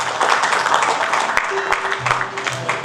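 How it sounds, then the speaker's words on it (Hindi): Audience applause at a lamp lighting inauguration ceremony for a music foundation, a dense steady wash of clapping lasting throughout, fairly loud with a few sharper claps standing out. "आपकी जोरदार तालियां यहाँ पे"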